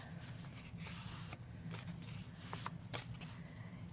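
A sheet of paper is folded by hand for a double-sided tuck, with crisp crinkles and short rustling creases repeating over a steady soft background, close and moderately loud, no voices.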